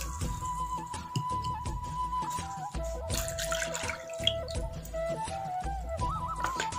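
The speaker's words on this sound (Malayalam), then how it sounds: "നമുക്കിതിലേക്ക് ആവശ്യത്തിനുള്ള വെള്ളം ഒഴിച്ചു കൊടുക്കാം." Water poured into a pot of Kerala sadhya-style chickpea curry (kadala koottu curry), a steady running pour with light drips over a continuous tonal hum.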